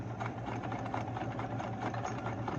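A heavy-duty Kenmore 158.17600 sewing machine sewing an overlock stitch, a steady fast mechanical hum and rhythmic needle chatter running continuously at close range.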